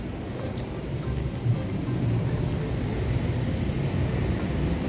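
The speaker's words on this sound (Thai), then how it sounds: "เสียงเครื่องบินก็ดังมากเลยค่ะ" Loud airplane passing overhead, a continuous broad roar that holds strong for the whole stretch with no voices over it.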